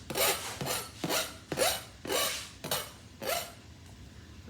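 A knife scraping chopped fresh seasoning off a cutting board: six or seven rhythmic, rasping strokes, close and clear, with no talking.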